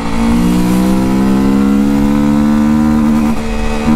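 A Honda XR motorcycle engine revs loudly through its exhaust, fresh from an oil and filter change, holding a steady, strong drone for about four seconds with no talk over it.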